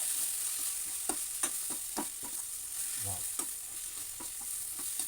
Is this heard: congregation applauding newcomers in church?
no